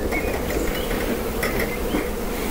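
Honey bees buzzing at an opened hive, a dense continuous drone close up with faint clinks of equipment, no talk.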